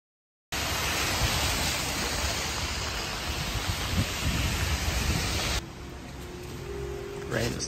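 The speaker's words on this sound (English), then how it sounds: "Rain is too crazy." Heavy rain pouring down on a Tokyo street, a loud, dense steady hiss filling the scene for several seconds before easing to a softer wash with faint voices nearby.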